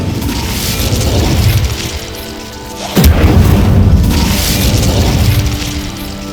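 An Incendio fire spell blast in Hogwarts Legacy, a loud, deep roaring burst that swells, cuts out sharply and then erupts again in a second heavy blast that fades over a couple of seconds.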